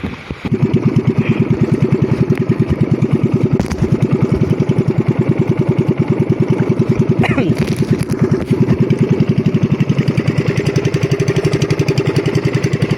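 A fishing boat engine runs steadily at close range, a loud, even, chugging drone that holds for the whole stretch with only slight variations.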